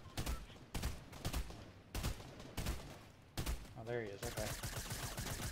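Bursts of automatic gunfire in Fortnite, several rapid volleys separated by brief pauses, loud and close, with a player speaking briefly near the end.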